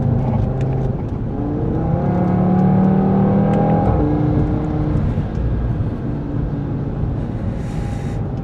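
From inside the cabin, a 500-horsepower car on an open road pulls hard, its loud engine roar rising in pitch then easing into a steady drone, with wind and road noise and no voices.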